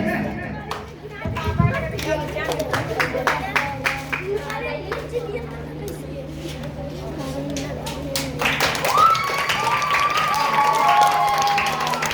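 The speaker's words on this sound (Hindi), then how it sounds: "आप लोग ताली बजाइए" Crowd of children and adults clapping at a talented-student award ceremony for Ambedkar Jayanti, a dense burst of applause that thins into scattered claps while voices talk over it.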